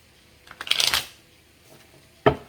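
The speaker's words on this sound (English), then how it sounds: "let's actually do one more shuffle." Tarot cards shuffled up close: a quick riffle of crisp flutters building to a dense burst, a pause, then one sharp tap as the deck is squared.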